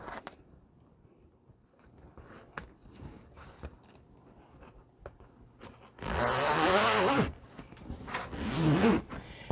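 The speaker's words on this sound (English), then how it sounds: "And I will zip that all along the way" A zipper on quilting leader fabric for a longarm quilting machine is pulled in two loud, rasping runs, following quieter fabric handling and soft clicks.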